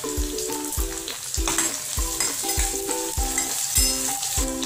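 Onion, peanuts and curry leaves sautéing in a pan for masala khichdi, with a close, steady sizzle and regular rhythmic scrapes and knocks of a spatula stirring, repeating roughly every half second, no voices.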